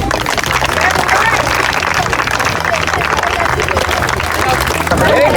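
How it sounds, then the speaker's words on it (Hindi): A crowd at a college magic show claps and cheers, a dense, steady wash of applause and hubbub lasting the whole stretch, with a low rhythmic musical thump beneath and voices mixed in. "प्लीज भाई टे जोरदार ताली दिंतु"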